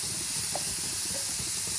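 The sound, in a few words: stirring food frying in a pan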